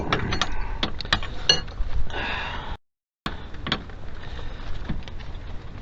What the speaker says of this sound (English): So make sure when you just turn your wrench, don't go flipping it around in here